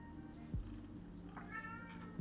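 A pet cat meows indoors at night, with a couple of short calls and a fainter cry against a steady background hum.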